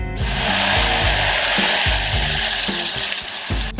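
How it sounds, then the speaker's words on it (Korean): White wine poured onto toasted raw rice in a risotto pot sizzles loudly, a hissing, spitting burst with rhythmic stirring scrapes underneath, close and alone. "쌀이 어느 정도 좀 데워지면 여기다가 화이트 와인,"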